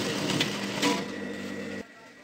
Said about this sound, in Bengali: তাই জন্য এটাকে আমি সেলাই করে নেবো।